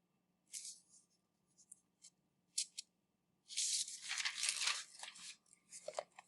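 A pen writing and underlining on paper, short scratchy strokes in bursts with pauses, then a longer run of continuous scribbling, close and quiet against a faint low hum.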